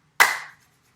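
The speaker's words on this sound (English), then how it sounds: "we will open our palms again to take another big clap" One sharp, loud hand clap made with open palms during a seated dance warmup, a single crisp burst that decays quickly into silence.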